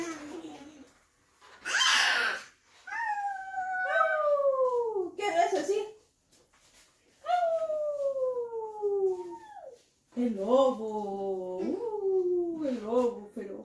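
A dog howls in a home in several long, wavering, rising and falling wails with short breaks between them, loud and close, with a brief burst of noise near the start.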